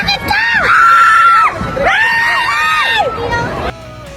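Street crowds scream and shout the name of actress Loisa Andalio, with high shrill voices rising in waves, loud and close, then dropping off abruptly near the end.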